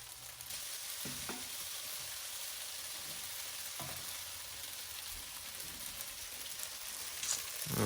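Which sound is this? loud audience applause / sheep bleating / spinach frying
spinach frying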